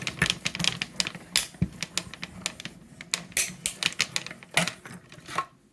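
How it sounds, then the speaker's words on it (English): Rapid irregular popping and clicking from a craft cutting machine, sharp close transients in uneven bursts with a faint mechanical hum beneath, no voices. "all those popping noises are normal"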